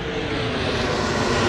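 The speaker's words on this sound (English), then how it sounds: "Airplane's coming in hot." Aircraft engine roaring steadily overhead in downtown Kansas City's West Bottoms, a loud, continuous broadband rumble that holds level for the whole moment with no talk.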